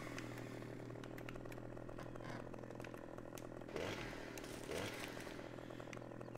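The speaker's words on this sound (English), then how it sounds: "I can turn on the saw" A chainsaw runs close by outdoors on a hillside, a steady buzzing drone with two brief revs swelling partway through, and no voices.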